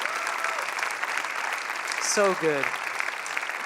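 Audience at a 2019 Genesis conference Q&A applauding the speakers: steady, dense crowd clapping throughout, with a voice speaking briefly over it.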